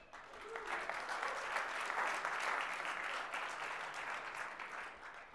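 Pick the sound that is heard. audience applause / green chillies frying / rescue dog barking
audience applause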